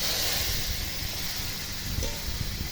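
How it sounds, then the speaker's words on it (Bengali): Cumin seeds sizzle in hot oil as they temper for cooking taro greens, a steady close hiss and spatter with faint crackles, loud and continuous with no talking over it. "তেল দিয়ে দিল, তারপরে জিরা ফোড়ন দিয়ে দিল"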